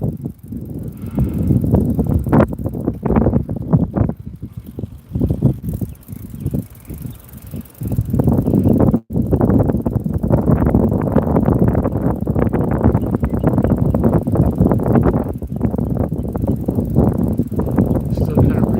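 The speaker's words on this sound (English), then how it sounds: "Still kind of breezy out here." Gusty wind buffets a microphone outdoors during a bicycle ride downtown, a loud continuous roar with rumbling surges and a brief dropout partway through.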